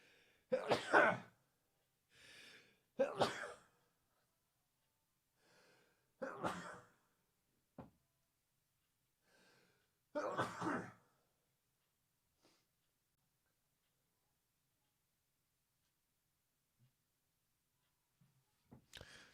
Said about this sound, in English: I just had a sneezing fit, and I feel like another one is about to come on.